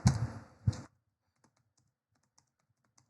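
A computer keyboard is typed on up close while entering a printf line of C code. Two quick clusters of key clicks are followed by near silence with only a few faint taps.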